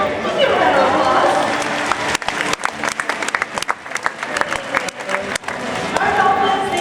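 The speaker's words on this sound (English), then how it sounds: "Let's give him a round of applause." Audience applause at a dolphin show at the National Aquarium in Baltimore, a dense crowd clapping for a volunteer that swells, breaks into scattered claps with voices mixed in, then rises again.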